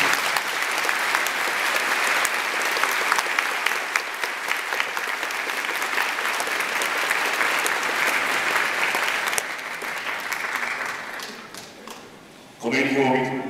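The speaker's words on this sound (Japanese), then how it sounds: "どうか大きな拍手をお願いいたします。" An audience claps as a ball and a 2019 season uniform are presented to officials at a Sagan Tosu football club send-off rally. The dense, sustained applause runs for several seconds, tapers, and a voice then speaks.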